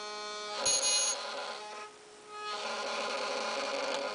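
A littleBits wireless doorbell setup giving a harsh, steady electronic buzz with a strong harmonic tone, near and fairly loud, dipping briefly mid-clip before buzzing again continuously.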